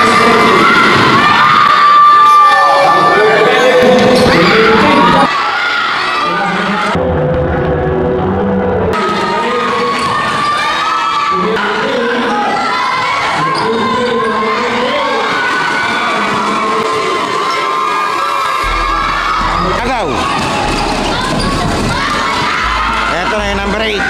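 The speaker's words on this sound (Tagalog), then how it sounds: "Buhay na buhay ang crowd." A packed gym crowd of parents and relatives cheers and shouts at a children's basketball game, a dense, loud, continuous roar with children's yells and whoops rising over it, and a commentator's voice cutting through at times.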